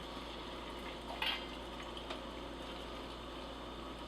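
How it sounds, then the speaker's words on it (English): Boiling water poured into warm canning jars of packed green beans, a steady close liquid hiss with a brief louder splash partway through. "So this is just plain, clean, clear, boiling water."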